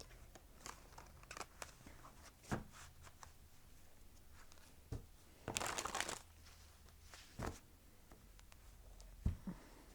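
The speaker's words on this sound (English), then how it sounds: "The cards are already pre-shuffled. I just like to shuffle them a couple minutes more." Tarot cards are shuffled by hand, giving soft, scattered riffling and slapping sounds with a longer burst of rustling in the middle, quiet and close with no talking.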